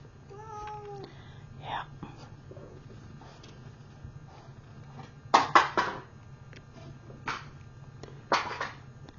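A pet cat meows several times at close range in a quiet room, with short bursts of sound among brief rustling noises and a low steady hum underneath.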